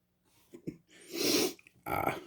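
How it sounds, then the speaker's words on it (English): A few quick breaths and a rising exhale build into a sharp, close sneeze burst. "It just went up my nose. I might sneeze."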